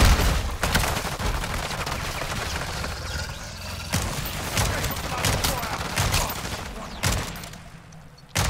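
Call of Duty Modern Warfare 3 open-world zombies combat, with sharp gunshots from the single-shot Longbow sniper rifle amid ongoing gunfire and loud impacts, and a voice talking at times.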